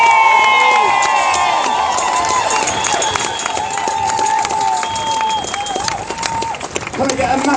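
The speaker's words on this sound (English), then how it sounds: "Can I get a massive round of applause for everyone who came and spoke?" Outdoor rally crowd at an anti-fracking event in Preston, applauding and cheering steadily and loudly throughout, with whistles and shouts rising over the clapping and voices mixed in.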